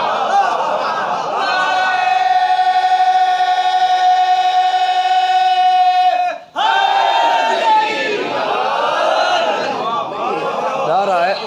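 A crowd at a Muharram majlis chants religious slogans in unison, loud and sustained with harmonic voices, breaking off briefly before resuming with rougher, overlapping shouting.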